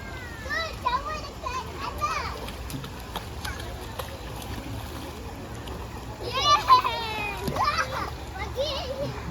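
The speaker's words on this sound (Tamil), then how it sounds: "எங்கள் சின்ன குழந்தைங்க எல்லோரும் குளிக்கிறேன்." Children bathing and splashing in the water at Kanching Waterfall in Malaysia, their excited voices and shrieks rising over steady rushing water, with a louder burst of play midway.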